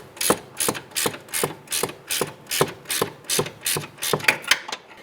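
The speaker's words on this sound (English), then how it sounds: "I'm going to go ahead and use my gear wrench to go ahead and drive this in" A gear wrench ratchets steadily as it drives a rear upper forward control arm bolt on a 2005-2010 Chrysler 300, giving a close, crisp run of about a dozen evenly spaced clicking bursts.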